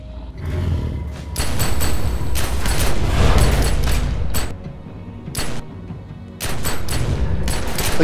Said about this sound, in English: Look at your little bullets plinking off of that beast. Plink, plink, plink, plink.